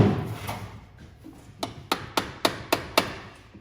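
Seven sharp hammer taps ring out at a steady pace, bright and metallic, after a quiet stretch of low background rumble, on a 1950 Chevy 3100 truck.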